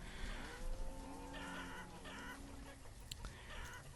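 Chickens clucking in the video game Banished, a few soft layered clucks and rooster-like calls over quiet ambient game sound, faint and without speech.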